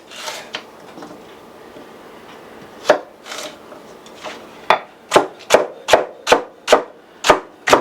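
Vegetables with their leaves are chopped into chunks on a cutting board: a few scattered cuts, then a quick steady run of about nine sharp, close knife thuds.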